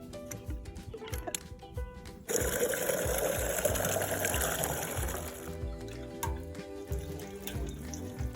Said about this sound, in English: This is just fresh water from the tap.